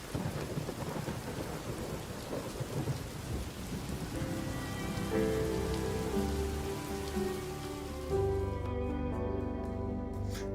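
Rain pours steadily in Venezuela, a dense, hissing downpour with low rumbling thunder, loud and close, later joined by sustained musical tones that rise over the rain toward the end.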